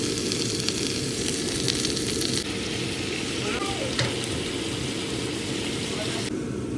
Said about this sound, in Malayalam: ബട്ടർ ഒന്ന് മെൽറ്റായി. അപ്പം നമ്മളിത് അരിഞ്ഞ് വെച്ചേക്കുന്ന മഷ്റൂം അങ്ങോട്ട് ഇട്ട് കൊടുക്കാം.